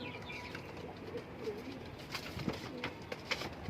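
Domestic pigeons in a loft coo softly and repeatedly, with a few chirps and light rustles over a low background hum.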